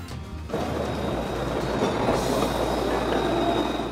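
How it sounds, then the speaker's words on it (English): A tram-train, a vehicle that runs as both city tram and regional train, rolls along the rails with a steady loud rumble and faint wheel squeal, starting abruptly and continuing without talk. "tram trains combine city trams and regional trains"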